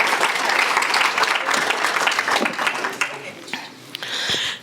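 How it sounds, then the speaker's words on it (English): Audience at a political talk applauds steadily, a dense wash of many hands clapping close by that thins and fades toward the end, with some voices mixed in. "you should give yourself a round of applause"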